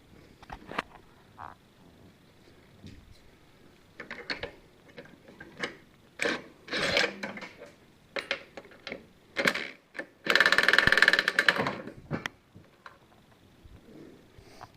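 Suspension nuts are loosened on a 2002 Acura RSX Type S, with scattered metallic clicks and ratcheting bursts, including a dense buzzing run near the end, close and fairly clear with no talk.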